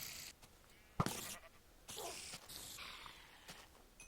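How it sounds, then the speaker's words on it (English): Minecraft sheep, one brown and one white, give short bleats, several brief calls spaced a second or so apart, moderately close and fairly quiet, with no talking. "There's a couple sheep, and actually one of them looks like he's brown and the other one white"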